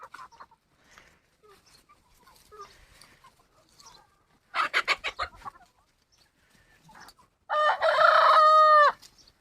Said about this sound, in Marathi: आता कोंबड्या येणार दोन मिनटात त्यामध्ये खायला